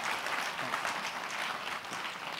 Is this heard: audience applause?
yes